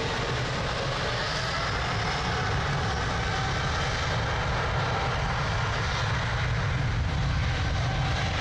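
An airplane engine roars steadily at Lisbon Airport, a loud, continuous broadband rumble that holds even throughout with no voices.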